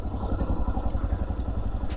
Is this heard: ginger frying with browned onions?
no